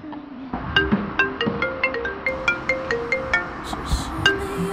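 Phone ringtone in a comedic Chinese drama scene, a bright repeating melodic pattern of short electronic notes playing steadily at moderate level with little else over it.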